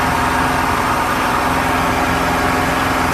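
Steady, loud engine drone from a Starcraft boat's outboard running continuously at a constant pitch, close by, with no talk over it.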